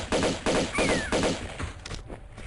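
Dual pistols firing in Tomb Raider II, a rapid string of loud, punchy game gunshots in quick bursts, with a brief ricochet whine, then tapering off into quieter impacts.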